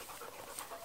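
A dog panting at a kennel breeding springer spaniels and dachshunds, quick quiet rhythmic breaths repeating through the short span, close by and soft, with no talking.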